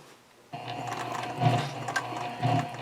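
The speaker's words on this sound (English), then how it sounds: "I'm ready to do the top stitching along this edge here." A sewing machine runs steadily while top stitching along the edge of a small zipper key fob coin pouch, a close, continuous mechanical whir starting after a brief quiet moment.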